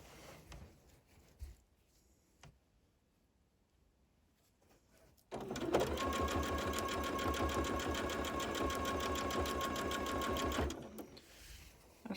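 A sewing machine stitches binding onto a baby quilt, starting after a few seconds of quiet handling and then running at a fast, steady, close-up mechanical rhythm for about five seconds before stopping.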